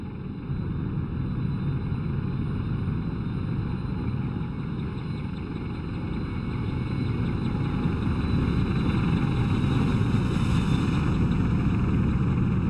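An AH-64D Apache helicopter in the DCS flight simulator gives a steady, dense rotor and engine drone that holds at an even level throughout and swells slightly toward the end, with no voices.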